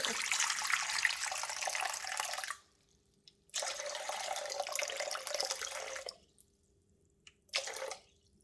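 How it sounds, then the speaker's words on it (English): 360 grams of water pours from a tap into a mixing bowl for bread dough, in three separate bursts of splashing fill, two long and one short, broken by quiet pauses. "Pouring in 360 grams of water."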